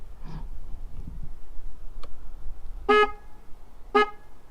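Two short, bright motorcycle horn beeps about a second apart from a Rusi Sigma 250, sounding close, after a quiet stretch with faint background noise.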